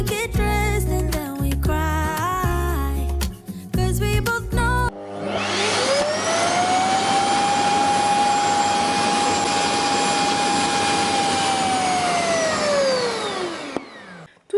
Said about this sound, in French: Il va s'auto-vider, donc vous n'avez vraiment rien à faire avec cet aspirateur-là.